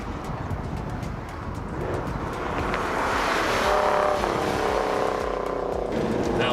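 A Subaru BRZ engine rumbles steadily, swelling gradually louder as the car drives, a broad continuous roar with no talking over it.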